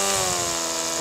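An EGO Powerload cordless string trimmer running at its high-speed setting, giving a steady, loud, close motor whine with a bright, even buzz that holds constant throughout, with no talking.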